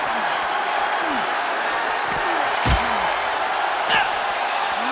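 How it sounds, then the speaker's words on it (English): In WWE 2K24, a wrestler's face is slammed into the ringside barricade with a sharp thud around the middle, set against a steady roaring arena crowd and commentary voices. "Oh, he slammed his face right into the barricade."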